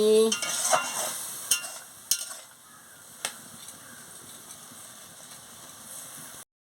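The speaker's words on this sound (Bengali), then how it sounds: "পরিমাণ মতন জলটা দিয়ে দিচ্ছি দিয়ে ভালো করে নাড়িয়ে নিচ্ছি" A spoon scrapes and clicks against a wok in scattered strokes over a soft sizzling hiss as ash gourd and pea curry is stirred with water, close up, fading toward the end.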